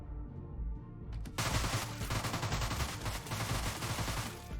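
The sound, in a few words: SMG gunfire in the video game Deadbolt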